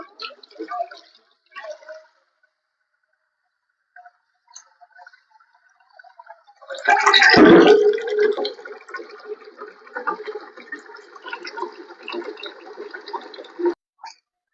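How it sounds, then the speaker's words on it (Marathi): Water poured into a cooking pot for masala rice: a short burst of splashing pouring that tapers into a steady trickle, preceded by quiet clinks and handling noises, close by. "आता मी पाणी टाकून घेत आहे."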